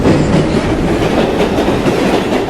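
A subway train rumbles steadily past in a Roblox game, with a dense, continuous roar and faint rhythmic clatter, loud and close throughout, no voices.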